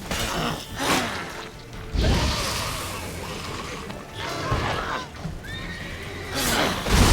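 A horse in The Witcher 3 neighs and whinnies loudly several times between thudding hooves and rushing movement, the calls close and sharp against a busy game soundscape.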